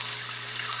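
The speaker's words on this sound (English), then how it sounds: "What a soothing sound, the sound of running water." Steady running water from an old-time radio drama, a continuous soft trickle like a tap or faucet flowing, heard alone for under a second.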